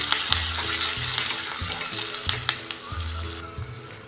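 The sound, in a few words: tempering with green chilli and curry leaves sizzling in the pan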